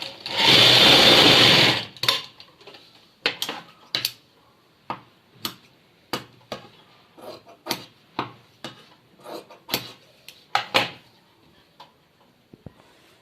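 Sewing machine stitching joined bias strips for piping, opening with a fast two-second burst of continuous whirring, then a long series of short, separate clacking stitches at an uneven rhythm.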